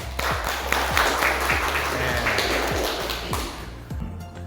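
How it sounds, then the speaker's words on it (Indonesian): A class of vocational automotive students claps together in a classroom, steady broadband applause for about four seconds, with some tapping and a low hum underneath. "Oke, betul sekali, tepuk tangan."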